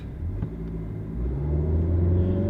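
A small SUV with a CVT pulls away hard from a standstill, its engine droning up to a high, steady rev with low, rising rumble inside the cabin, close and alone without talk.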